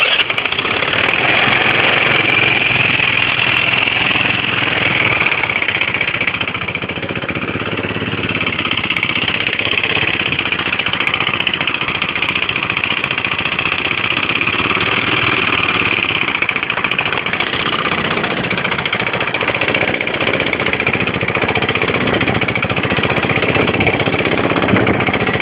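A Lingben Messiah scooter moped engine runs steadily at idle, a loud, close, continuous buzzing drone that barely changes in pitch across the whole stretch.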